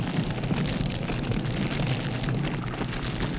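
Ordinary explosive burns inside a nuclear weapon during a fire safety test, making a loud, continuous roaring rush like a violent blaze. It is sustained and dense, with no voices.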